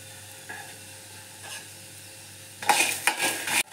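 Urad dal frying in hot oil in a pan, a quiet sizzle that swells into louder crackling and spattering near the end, with a few short stirring scrapes and a clink of utensil against the pan.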